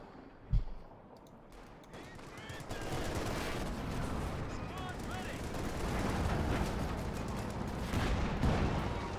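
Gunfire in Company of Heroes 2, a dense, continuous battle din of rifle and machine-gun bursts with scattered heavier explosions, opening with a sharp single blast and swelling steadily, mixed and fairly loud, with a voice talking over it.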